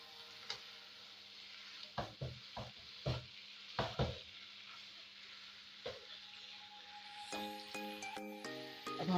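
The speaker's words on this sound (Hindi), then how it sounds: "अब हम अच्छे से सब चीज़ों को अच्छे से मिक्स कर देंगे" Dal with fried bitter gourd and golden-brown onions is mixed in a pan, with a soft background sizzle punctuated by a series of sharp spoon clinks and scrapes, then a faint ringing tone building near the end.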